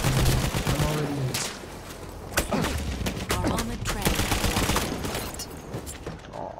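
Gunfire in a Battlefield 1 conquest match in the Sinai Desert, with dense machine-gun bursts and single shots crackling over constant battlefield noise and some faint voices.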